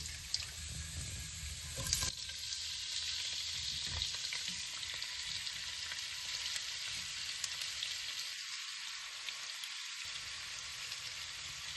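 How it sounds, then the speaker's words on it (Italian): Artichokes, drained, frying in oil with golden garlic for an artichoke lasagna, giving a steady close sizzle with faint stirring and watery crackle throughout, briefly dipping near the end. "E inizio a fare ovviamente rosolare i carciofi."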